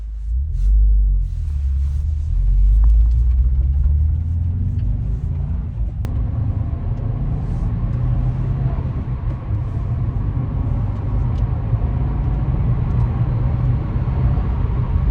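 Low, steady engine rumble from inside a moving 2022 Subaru WRX with its carbon filter deleted, with road noise droning underneath and a brief click partway through.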